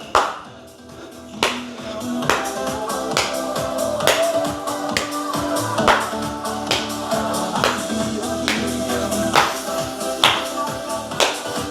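Hand claps on each step of a step-clap move in a beginner cardio workout, sharp regular claps roughly every second over steady upbeat music.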